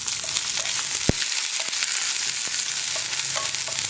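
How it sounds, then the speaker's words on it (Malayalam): Chopped onions hit a hot pan of oil with curry leaves while cooking kadala thoran, a steady dense sizzle with occasional sharp clicks and pops and a brief stir, continuous and close. "കറിവേപ്പില ചേർത്ത് ഉടനെ തന്നെ നമുക്ക് നമ്മൾ കട്ട് ചെയ്ത് വെച്ചിരിക്കുന്ന സവോള ചേർത്ത് കൊടുക്കാം."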